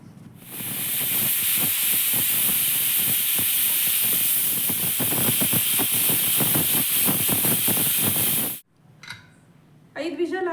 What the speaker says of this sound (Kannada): ಇವಾಗ 5 ವಿಷಲ್ ಆಗೋ ತನಕ ಕೂಗಿಸ್ಕೊತಾ ಇದ್ದೀನಿ.